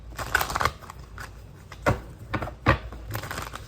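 Tarot cards are riffled and shuffled by hand in a series of crisp, papery bursts and flicks, close up, with short pauses between shuffles and no talking.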